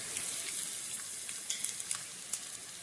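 Asafoetida dropped into hot oil for a lentil-dish tempering, giving a steady soft sizzle with small crackling pops, close and fairly quiet, no voices.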